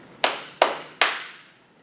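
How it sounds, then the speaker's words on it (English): Three sharp hand claps at a steady pace during a baby rhyme session, each with a short ringing decay in a quiet room. "Let's clap them."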